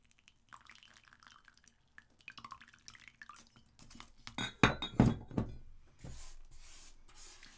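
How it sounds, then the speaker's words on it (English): Water poured from a teapot to soak a potted plant: quiet clinks and drips at first, then a brief, louder run of splashing and trickling that fades into soft dripping. "Now I'm just gonna get my teapot and give her a bit of a soak."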